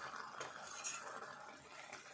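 Light, steady stirring of Andhra-style egg curry in a pan: soft scraping and gentle clinks of a spoon against the metal, with a faint wet, saucy texture throughout.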